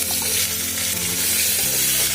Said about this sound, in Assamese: এতিয়া মই মেৰিনেট কৰি থোৱা মটৰখিনি দি দিছোঁ।